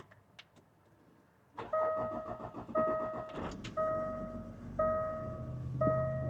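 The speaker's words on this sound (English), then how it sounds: "I'm doing a cold start, so I figured I'd show you guys what it's like cold starting a luxury diesel" A Range Rover Sport diesel cranks and fires on a cold start, settling into a steady idle while a repeating electronic chime tone sounds over the engine, close by and fairly quiet.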